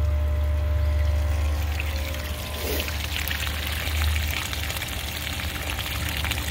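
While K1 mechanical filter media is being cleaned, water pours out of it in a steady splashing flow over a low constant hum, fading slightly midway and carrying on without talk.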